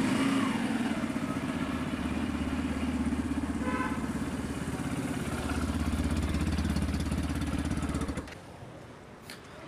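A 2023 Yamaha FZ-X 150 BS6 motorcycle engine runs steadily up close with a low rumbling idle, then drops off sharply near the end, leaving a quieter hum.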